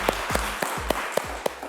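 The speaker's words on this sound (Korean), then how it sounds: "박수 한번 주세요." An audience on a Korean web talk show claps in a short run of about six distinct, evenly spaced claps, close and fairly clear with nothing else behind them.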